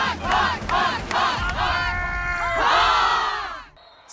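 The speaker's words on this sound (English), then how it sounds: "Student athletes have not performed cheering like that in over a year." A group of student athletes chanting and cheering together in a loud, close crowd, with rhythmic shouted bursts that swell into a sustained collective yell and then cut off.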